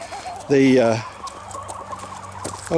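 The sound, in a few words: chickens clucking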